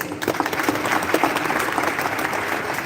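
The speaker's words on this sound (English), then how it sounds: "Please, a round of applause." An audience applauds at a formal ceremony marking the 150th anniversary of the Sargrenti War, with steady, dense clapping filling the hall for about three seconds without pause.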